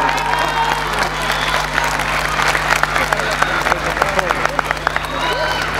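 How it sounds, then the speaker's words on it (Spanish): Loud audience applause at a live outdoor festival show, dense clapping mixed with crowd noise and scattered voices, a steady hum beneath and sharper claps standing out toward the end. "fuerte el aplauso para ella"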